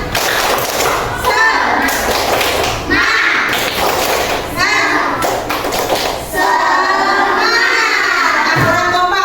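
A group performs the rhythmic 'tepuk semangat' clapping routine, loud, fast patterned claps with chanting voices throughout and brief pauses between phrases.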